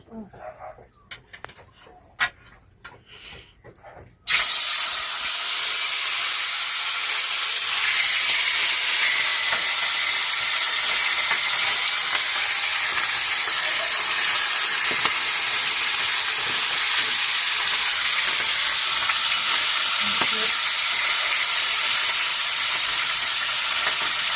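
Food fries in a pan (kawali) with a loud, steady sizzle and hiss that starts abruptly after a few seconds of quiet clatter, then continues unbroken and close up to the end.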